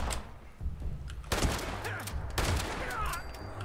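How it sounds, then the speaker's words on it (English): Shotgun blasts in the video game Fallout 76, two heavy booming shots about a second apart over a low rumbling game background, fairly faint overall. "I gotta use my shotgun"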